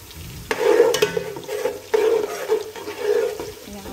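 Onions frying golden brown in a pot for chicken pulao biryani give a close, uneven sizzle. Repeated scraping and stirring strokes make loud bursts over a low, bubbling base.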